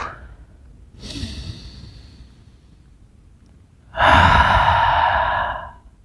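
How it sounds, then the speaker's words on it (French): A long, forceful exhale through an open mouth follows a deep nasal inhale during beginner yoga pranayama breathing, a soft intake then a loud breathy rush lasting about two seconds, close to the microphone. "Je vais prendre une grande respiration par le nez, longue et profonde, et je vais ouvrir la bouche pour laisser sortir tout."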